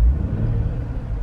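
A Jeep Wrangler engine fitted with a throttle pedal controller revs up close, a steady low rumble that swells slightly then holds throughout, with no voices.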